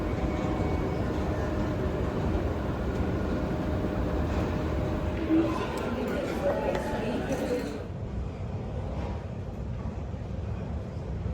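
Steady low rumble inside a moving airport shuttle train with people talking throughout, the noise dropping slightly near the end as it slows.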